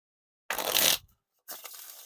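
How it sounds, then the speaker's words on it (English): White Arcane playing cards by Ellusionist being riffle shuffled close up, a soft papery flutter lasting about half a second, a brief pause, then a second cascade as the cards bridge together, alone without talk. "They're not like the perfect riffle shuffles, but they still work nonetheless."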